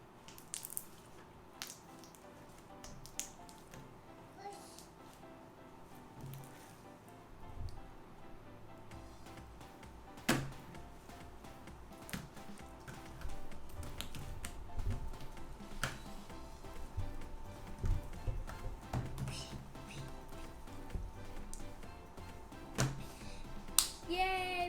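Homemade slime is squished and stretched while someone tries to blow a bubble, giving soft close sticky pops, squelches and clicks at an uneven pace, with faint talking now and then.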